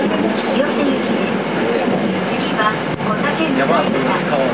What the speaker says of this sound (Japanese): この電車は西武線直通各駅停車清瀬行きです。